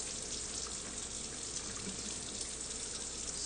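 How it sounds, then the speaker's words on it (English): Hands being washed under a running kitchen tap during a home cooking session, a steady, even rush of water with no break, moderately quiet and heard alone without any voices. "Wash our hands here. Don't skimp on washing your hands."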